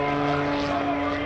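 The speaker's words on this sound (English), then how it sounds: "Doing the torque roll, backing the airplane up as he hangs it on the prop." An aerobatic propeller airplane hangs on its prop in a torque roll at the 2016 NAS Oceana airshow, its engine a loud, steady droning roar throughout.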